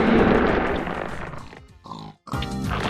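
In a video game, pigs grunt and squeal while a tongue drill creature devours them, a few rough, close oinking grunts followed by short squeals with a brief gap between.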